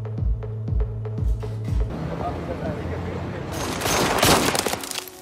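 Gunfire from a film scene at a shooting range sounds as a few rhythmic deep booming shots, then dense overlapping noise and a rising burst of mixed clatter and rumble, with voices underneath.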